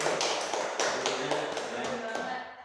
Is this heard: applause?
yes